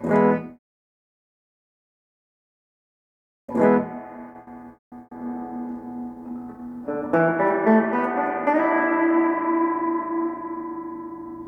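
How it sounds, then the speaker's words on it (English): Electric guitar chords ring out through a Studio 15R amplifier, each strum sustaining and washing into a lingering reverb tail, building louder toward the end. "The reverb control allows you to add an echo effect to the guitar."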